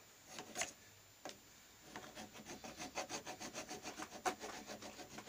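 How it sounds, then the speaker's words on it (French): A file rasps back and forth on the inner tube of an original Motobécane shock absorber, a quiet, close, steady run of rhythmic strokes after a few scattered scrapes, with no talking. "On va encore limer, quoi."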